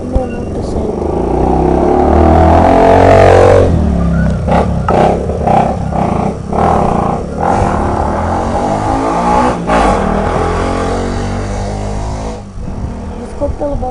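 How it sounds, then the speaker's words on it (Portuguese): A motorcycle engine revs nearby, rising to a loud roar and then settling into a rough, fluctuating rumble that fades slightly toward the end. Someone talks in Portuguese over part of it. "Desculpa pelo barulho aí da moto, pessoal."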